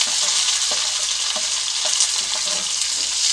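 Onions, curry leaves and green chillies fry over a medium gas flame in a pan, a steady loud sizzle with faint stirring scrapes running underneath, no voices.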